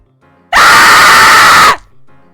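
A person lets out one loud, sustained scream lasting over a second as a volume check, harsh and close to the microphone, cutting off abruptly with near silence before and after.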